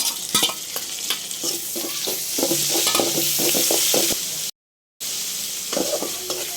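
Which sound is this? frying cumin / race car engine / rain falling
frying cumin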